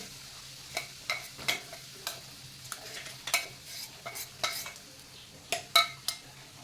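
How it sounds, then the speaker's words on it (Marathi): Ground peanut chutney stirred in hot oil in a kadai: a soft sizzle beneath repeated spatula scrapes and clinks on the pan, spaced irregularly, close and moderately quiet, no talking. "कढई गरम करून घेऊन दोन चमचे तेल घालायचे आहे आणि लगेचच ही वाटून घेतलेली शेंगदाण्याची चटणी घालायची आहे"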